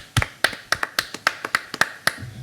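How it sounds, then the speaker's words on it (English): A single person clapping for a nuclear power and energy speaker, about a dozen crisp, fairly evenly spaced claps, close and clear with no crowd. "I'm going to applaud him"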